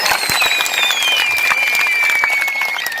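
An audience gives sustained applause for the teachers at a cultural program, dense continuous clapping with a thin whistling tone drifting above it.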